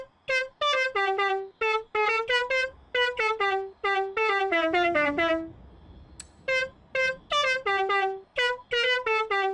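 Customized car horn in a realistic racing video game, honked in rapid irregular bursts of a bright, multi-toned musical blare, loud and close, with no talking.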